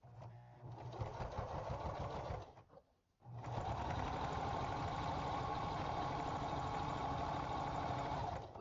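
A sewing machine stitches across quilted fabric with batting inside, running steadily and loudly, pausing briefly for about half a second before resuming its continuous mechanical whir.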